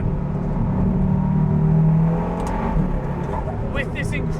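KTM X-Bow GT-XR with an Audi 2.5-liter engine accelerating, a loud, rising engine drone that swells and then eases, with a few brief higher-pitched bursts near the end.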